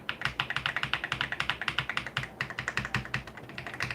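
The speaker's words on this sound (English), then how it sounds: "This keyboard sounds amazing" Fast, crisp typing on a computer keyboard, a rapid, even run of close, loud key clacks with a brief pause partway through.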